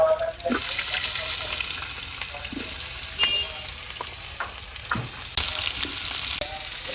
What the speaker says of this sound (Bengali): করলা ভাজি করার জন্য আমি এই কড়াইতে তেল দিয়ে দিলাম পিঁয়াজ কুচি কাঁচামরিচ এবার করলা দিয়ে দিলাম